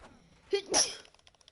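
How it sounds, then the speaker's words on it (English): A single sharp human sneeze, a quick intake followed by a bright burst, close and alone over a quiet background. "As soon as I tackled him, I sneezed."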